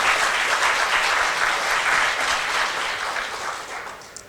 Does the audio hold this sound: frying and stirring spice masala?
no